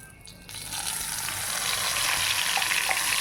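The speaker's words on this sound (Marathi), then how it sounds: "वाटण आता आपण घालून घेतलेलं आहे तेलामध्ये असं छान असं परतून घ्यायचं आहे" Ground spice paste hitting hot oil with cumin and asafoetida for a Maharashtrian vegetable dish, a sudden loud sizzle that swells into a steady crackling fry close by.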